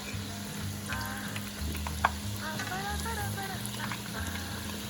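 Italian scartellate dough rosettes frying in hot oil, a dense, even crackling sizzle that holds steady for the whole stretch, with one brief sharp tap near the middle.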